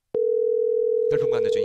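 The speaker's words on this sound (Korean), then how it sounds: "전화를 해야 되겠습니다." Steady telephone dial tone heard while placing a call during an esports broadcast, a continuous pure hum that starts abruptly and holds, with a voice talking over its final half second.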